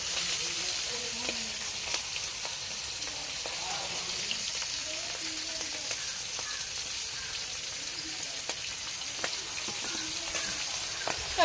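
Hilsa fish frying in a pan of hot oil, a steady broadband sizzle that holds evenly throughout with small crackles and pops, with faint voices in the background.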